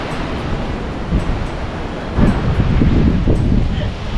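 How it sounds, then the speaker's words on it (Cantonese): Big sea waves surging below a cliff on a rainy, windy hike across Hong Kong Island, a broad continuous roar of surf and gusting wind on the microphone, swelling louder toward the end. "好大浪撳咗啦！ 好大浪啊！"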